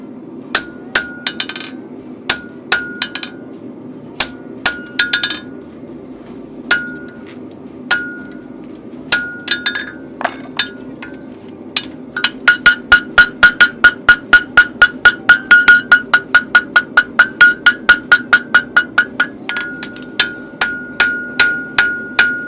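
Steel is hammered around the horn of an anvil during farrier work, with scattered single ringing blows at first, then a fast, steady run of loud, evenly spaced metallic strikes close by.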